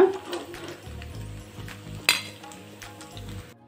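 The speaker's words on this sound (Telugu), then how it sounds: "ఇంకా ఉన్న ముక్కలు కూడా వేపుకుందాం" Taro (chamadumpa) pieces fry in hot oil with a steady, fairly quiet sizzle. A single sharp clink of a utensil against the pan cuts in partway through.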